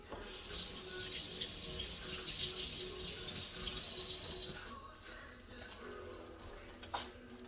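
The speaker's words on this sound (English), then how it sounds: "Let me wash my hands again." Hands being washed under a running kitchen tap, a steady broadband rush of water for about four and a half seconds that then stops, leaving a quieter room with a small clink near the end.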